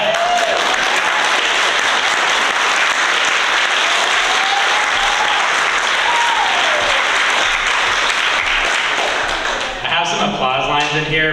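Loud sustained applause for graduating students at a high school graduation ceremony in Sitka, a dense wash of clapping from a full audience that holds steady before fading at the end as a voice begins.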